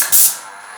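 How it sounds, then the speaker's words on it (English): Airless paint sprayer fitted with a pivoting fan tip releases one short, loud, hissing burst of spray, then fades into a faint lingering hiss. "Spray horizontal, spray vertical, any direction I want."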